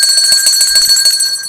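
A bright metallic bell rings rapidly and continuously, close and loud, with dense overlapping strikes.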